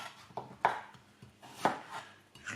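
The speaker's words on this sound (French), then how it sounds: "tout d'abord, je vais les tailler. Donc, je les coupe pas trop petites." A knife cuts peeled local turnips (raves) on a board in a few distinct chops, each a sharp crunchy thud followed by a softer slice, spaced irregularly and heard up close without speech.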